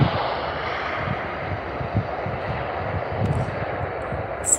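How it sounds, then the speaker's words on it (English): A South African Airways airliner touches down at OR Tambo International Airport, producing a steady, loud broadband jet roar that persists throughout with no talk over it. "This was a beautiful landing."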